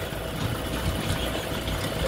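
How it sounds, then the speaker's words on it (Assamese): Tractor and dumper engines run steadily at a brick kiln, a continuous rumbling mid-to-low drone with a faint knocking texture and no voices. "ট্ৰেক্টৰ এখন আৰু ডাম্পাৰ"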